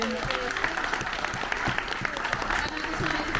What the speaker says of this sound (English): Ladies and gentlemen, one last round of applause for Phoebe.